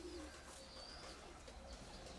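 Red-speckled pigeons coo faintly in a small loft corner, soft low calls with a few thin chirps against a steady hum.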